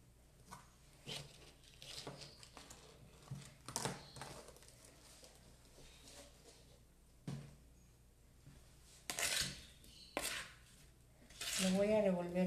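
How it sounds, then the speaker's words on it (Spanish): A spoon stirs an apple tart mixture in a bowl, giving quiet, intermittent clinks and scrapes with pauses between strokes, then a busier burst of stirring near the end. "Lo voy a revolver bien"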